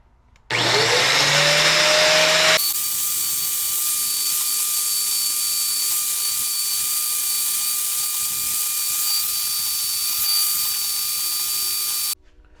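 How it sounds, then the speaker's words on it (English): An angle grinder or similar power tool grinds paint off small steel tubes being prepped for welding onto a larger tube, a loud, steady high-pitched whine that runs continuously for about eleven seconds before cutting off. "Gonna grind the paint off"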